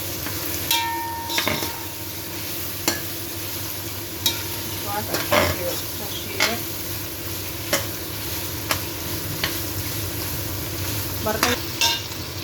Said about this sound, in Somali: baradhada waa inaan ku shiilo